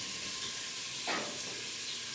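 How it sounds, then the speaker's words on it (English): Bacon browns in a Dutch oven with a steady, close sizzle and hiss of frying fat running throughout, swelling briefly in the middle as it is stirred. "We're going to brown this bacon up"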